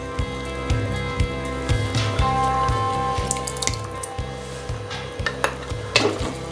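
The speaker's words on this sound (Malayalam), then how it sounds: "ഇനി ഞാൻ ഇതിലോട്ട് തൈര് ചേർത്ത് കൊടുക്കുകയാണ്." Curd is stirred into a Kerala sadya-style aviyal in a pot, with wet scraping and sloshing spoon strokes close by, set against a steady background hum.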